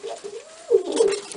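Racing pigeons coo softly at close range, one rising-and-falling coo followed by a fuller burst of cooing, with no talking.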